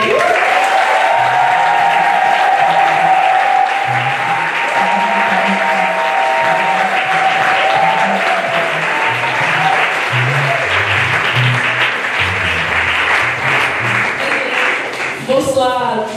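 A church congregation at a baptism and disciples' graduation service bursts into sustained applause and acclaim for the Lord, steady clapping filling the hall for over fifteen seconds while music and voices carry underneath.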